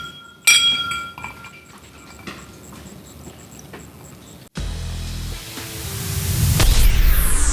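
Glasses clink during a bourbon toast, a sharp ringing chink near the start followed by fainter taps, then a burst of static-like noise that swells toward the end.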